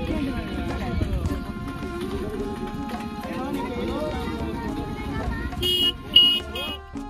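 Auto rickshaws pull in at a diamond-hunting spot in the Nallamala forest at Gajulapalli, Nandyal district, their engines rumbling under ongoing talk, with a brief horn toot near the end.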